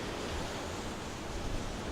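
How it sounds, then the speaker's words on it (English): Ocean waves crash against the rocky coast at Xiaoyeliu in Taitung, a dense, steady roar of surf heard close with no voices. "Look at those crushing waves over there. The water is wild."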